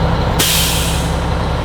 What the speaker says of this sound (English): Now the air governor kicked out